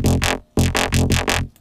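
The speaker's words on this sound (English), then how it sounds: "Then I put a notch filter with a bit of movement." A bright, plasticky synth passes through a moving notch filter, giving a phasey, swirling tone as a rapid string of repeated pulsing notes with one brief gap, loud and close.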